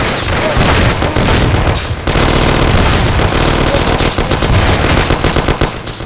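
Loud, sustained automatic gunfire in a shootout from the Mafia video game, dense rapid bursts with heavy booming shots running almost without pause across the whole stretch, with a brief dip near the middle.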